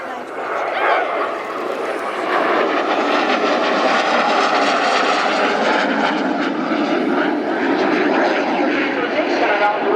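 Aerobatic display aircraft flies a slow roll maneuver at the Royal International Air Tattoo, its engine giving a steady, loud droning roar throughout while a commentator talks over it.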